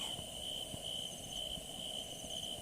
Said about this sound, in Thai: ก็คือจะเป็นพวก เสียงจิ้งหรีดเสียงอะไรพวกนี้นะครับที่เป็นเพื่อนเรา